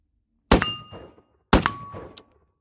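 Two sharp metallic rounds strike a steel target about a second apart, each a loud clang followed by a ringing tone that fades over roughly half a second.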